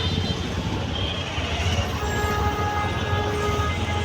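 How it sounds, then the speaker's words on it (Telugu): Hyderabad metro train passing overhead above a busy road, a continuous low rumble and rolling roar with faint traffic noise mixed in, steady and fairly loud throughout, no speech. "పైన మెట్రో నుంచి మెట్రో వెళ్తుంది."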